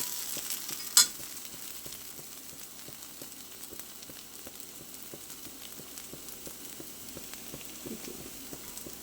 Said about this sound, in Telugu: లేదంటే పచ్చి వాసన వచ్చేస్తుంది, అందుకోసం ఫ్రై చేస్తున్నాను